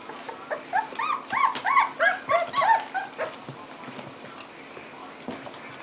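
Puppies about two and a half weeks old whine and yelp in a rapid run of high, wavering cries that fade out, followed by quieter shuffling.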